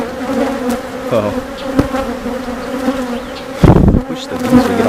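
Honeybees buzz continuously around a hive colony during an inspection, a dense close droning swarm with a few louder bursts as bees pass near, no talking.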